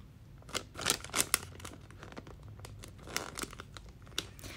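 Paper packaging on a winter advent calendar crinkles and tears softly in short, irregular bursts, close and gentle, with no talking.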